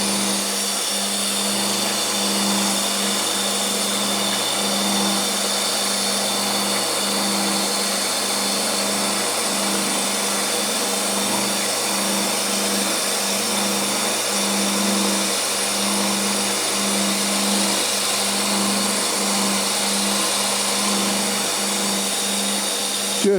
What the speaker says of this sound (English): Then we're going to go to a belt sander to do the outside.